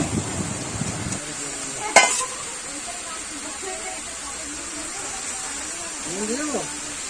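Meat drops into fried spice paste with a brief sharp clatter, followed by a steady hiss and sizzle that continues under a voice talking nearby.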